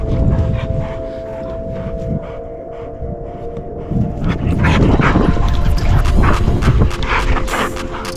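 Dogs play fight with a puppy, trading close, loud growls, yips, whimpers and short barks in quick, scrappy bursts.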